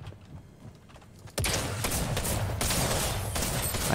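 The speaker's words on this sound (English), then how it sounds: "I hate that shotgun so much." Gunfire from a shotgun in a video game starts with an abrupt loud blast, then continues as dense, noisy shots and impacts after a quieter lead-in.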